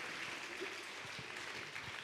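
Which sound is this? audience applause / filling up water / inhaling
audience applause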